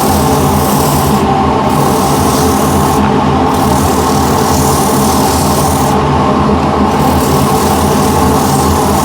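Wood being sanded with a 180-grit sanding wheel at reduced speed, a loud continuous rasping whir that holds steady for the whole stretch with brief dips in the high end.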